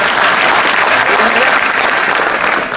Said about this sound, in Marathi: टाळ्या खूप वाजून झाल्या